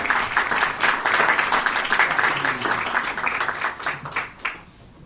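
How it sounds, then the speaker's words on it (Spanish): A lecture audience at a history conference in Guayaquil claps loudly in welcome, a thick round of applause that holds steady and then tapers off to a few scattered claps before dying away. "Lo recibimos con un fuerte aplauso"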